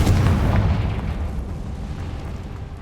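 A heavy, booming Confringo fire-spell explosion in Hogwarts Legacy bursts loudly at the start, then rumbles and fades into a long, low decaying tail.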